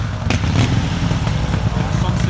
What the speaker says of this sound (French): j'attends ma moto que Tariq ramène fraîchement, je pense qu'il arrive